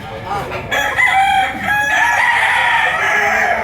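Roosters crow loudly and continuously among clucking pullets at a busy Laguna poultry market, several birds overlapping close by with constant crowd noise underneath.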